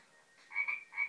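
A toy's electronic frog croaks in a few short, bright bursts, fairly close and clear, with no voices.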